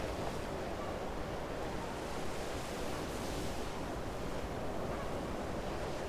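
Sea waves wash and rumble in a steady, dense roar with wind noise over the shore, continuous and fairly soft throughout with no voices.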